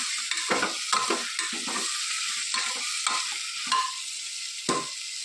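Vegetable curry sizzling in a pan as it is stirred, a steady bright frying hiss with repeated spatula scrapes and knocks at close range, no voices.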